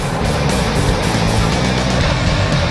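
A Bandit Beast recycler, converted from a grinder to a chipper, runs loud and steady, a dense roaring drone with no pauses.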